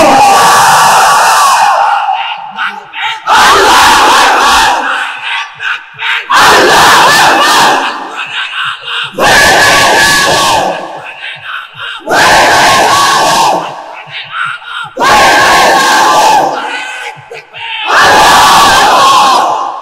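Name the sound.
young men in the crowd chanting takbir, Allahu Akbar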